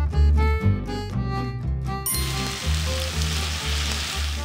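Kimchi going into ramen cooking in a pot: a bright burst of music gives way to a sudden, steady broadband sizzle and bubbling that carries on loudly to the end.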